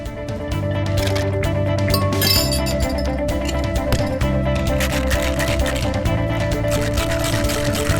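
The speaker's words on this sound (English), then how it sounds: "now we're just going to add ice and shake" A Mai Tai made with Jamaican rum and dry Curaçao is shaken with ice in a cocktail shaker. Rapid rattling and clinking carries on steadily over background music.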